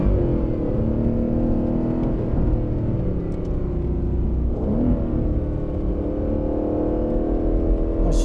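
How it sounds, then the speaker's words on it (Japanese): An Aston Martin Vantage on winter tyres driving steadily through snow, giving a continuous, even engine drone with a low rumble and a faint rise in revs midway, with no talking. "アストンマーチンバンテージは、運転に不慣れな方でもこんな過酷な条件下で車をきちっと前に進めることができます"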